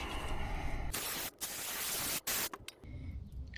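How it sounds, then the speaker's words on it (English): Aerosol brake cleaner sprayed onto the brakes of an old red vehicle during a brake service, heard as two loud, close hissing bursts, one long and one shorter, with a brief gap between them and no talking. "Now let's spray this down."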